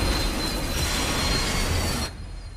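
A train brakes hard, its wheels squealing in a loud, sustained metallic screech over heavy rumble, close by, then cutting off abruptly toward the end.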